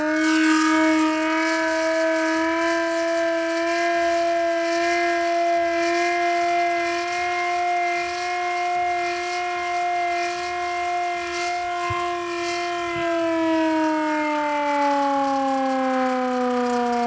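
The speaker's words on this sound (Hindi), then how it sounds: "ये वो पुराना सायरन है जो अंग्रेज़ों ज़माने में इस्तेमाल होता था, जंग की सूरत हाल में इस्तेमाल होता था" An old British-era civil defense siren wails loudly and continuously in a rich, steady tone that sags slightly in pitch, then climbs again, with no voices over it.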